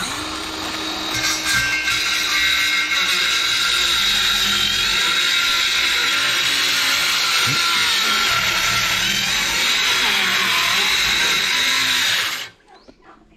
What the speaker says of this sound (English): I'll be able to use this as a guide and cut the bottom off.